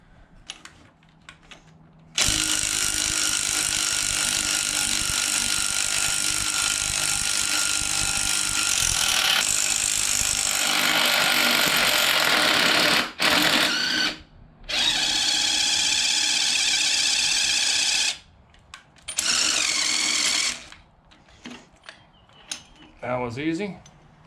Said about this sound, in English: a good two-jaw puller. What we can do is use by pushing down and sliding the shaft up, we'll actually get the bearing out